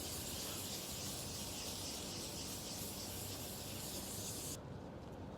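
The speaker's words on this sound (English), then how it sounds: "Just listen to how your sanding sounds" Steady, close rubbing hiss of wet sanding by hand, a continuous gritty swish that stops abruptly near the end.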